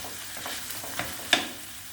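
A utensil stirs eggplant frying in a pan, a soft sizzle under light scraping with a couple of sharper clacks of the spoon against the pan, close by.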